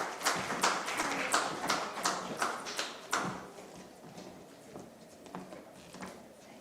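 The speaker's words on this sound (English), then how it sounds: "Round of applause." An audience applauds as panelists are welcomed on stage at a Caribbean artificial intelligence forum, with a burst of clapping that slowly thins and fades over several seconds, no talk.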